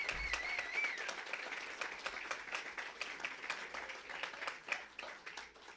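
An awards-night audience claps in a faint, distant burst of applause lasting several seconds, with individual claps standing out in an uneven patter.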